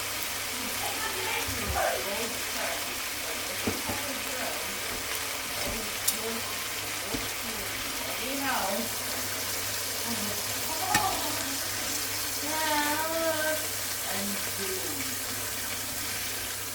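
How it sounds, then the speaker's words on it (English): Steak frying in butter with garlic and thyme in a pan, a soft continuous sizzle under a person talking at length, with occasional clinks of utensils. "I'm just gonna cook my steak in butter, garlic, and thyme"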